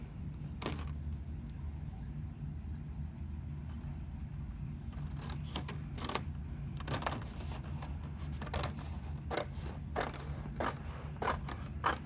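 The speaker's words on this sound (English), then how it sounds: "my big scissors" Large crafting scissors snip through paper in a series of short, crisp cuts, some clustered in quick pairs, fairly faint over a low steady room hum.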